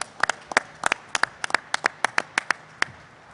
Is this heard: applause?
yes